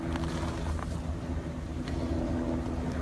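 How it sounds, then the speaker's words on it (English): Bureau of Indian Affairs and federal vehicles roll past at Standing Rock, giving a steady low engine rumble that holds throughout with no gaps and no voices. "Looks like some of the vehicles are now moving beyond"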